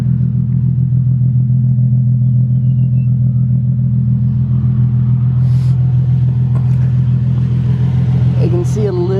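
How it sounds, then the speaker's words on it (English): A Nissan 370Z fitted with a Greddy exhaust idles steadily close by, giving a deep, even low rumble for the whole stretch, with faint clatter and a brief higher whine near the end. "The exhaust is so much quieter than the Tomei."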